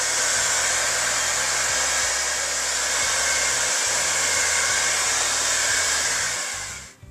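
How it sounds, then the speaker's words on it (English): A hair dryer runs to dry a patched wall repair such as a filled nail hole, giving a loud, steady, close whooshing whir that holds for several seconds before cutting off at the end. "we can use the hair dryer to dry it off"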